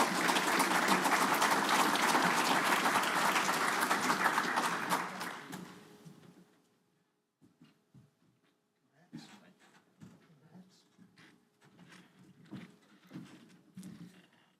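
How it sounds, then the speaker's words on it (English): A round of audience applause at an electric cooperative's annual meeting, dense clapping for about five seconds that fades out, followed by quiet room sounds, shuffling and scattered knocks as people move. "And y'all give them a round of applause."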